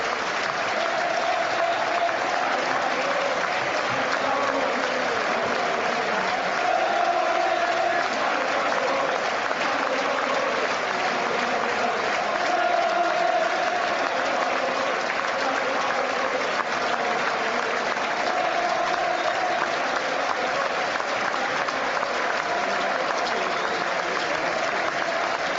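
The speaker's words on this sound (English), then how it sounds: "Period of applause for Gary Rowell, Sunderland paying their respects" A stadium crowd at a Sunderland v Newcastle United football match applauding in tribute before kickoff, a dense, sustained wash of clapping from thousands of people, steady and even throughout.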